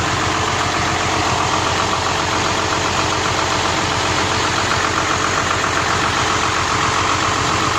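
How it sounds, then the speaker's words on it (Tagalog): The AC compressor of a Hino truck runs with the engine going, a loud, steady mechanical drone with a rapid knocking rattle underneath, continuous and close. "Yung compressor po niya ay umiikot."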